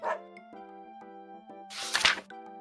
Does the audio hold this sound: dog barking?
yes